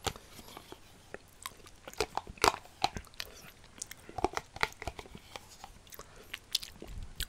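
Close-up mouth sounds of someone eating strawberry quark: moist smacks, small bites and wet chewing clicks in an irregular rhythm, with no talking.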